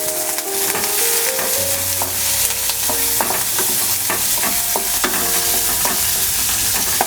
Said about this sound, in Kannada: ಈರುಳ್ಳಿ ಕಲರ್ ಚೇಂಜ್ ಆಗೋವರೆಗೂ ಫ್ರೈ ಮಾಡ್ಕೋಬೇಕು.